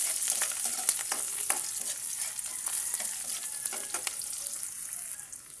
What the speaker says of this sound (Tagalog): Unahin ko lang po ang bawang. Sunod ko na rin po ang sibuyas.